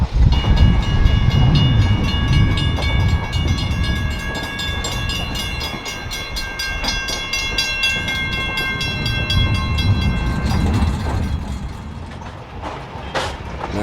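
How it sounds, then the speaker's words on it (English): A Nevada Northern Railway historic train reverses toward the main line, rumbling and clattering steadily up close with a sustained tonal whine overhead and the cars rolling throughout. "Now we start off by the train reversing out to the main line."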